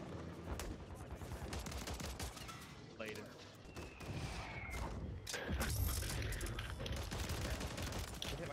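Gunfire in a Call of Duty Rebirth Island match, with bursts of shots and explosive impacts spread across dense, continuous game sound while a player talks over the action.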